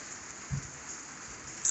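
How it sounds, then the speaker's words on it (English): Light rain falls steadily outdoors during a road trip, a soft, even hiss close by with a faint low thump partway through. "right now, it's probably the lightest rain we've had all day"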